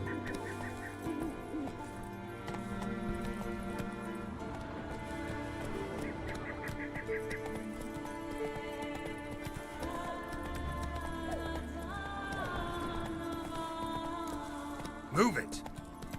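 Roach the horse gallops in The Witcher 3: Wild Hunt with rhythmic hoofbeats over continuous game music, joined by a brief sharp burst near the end.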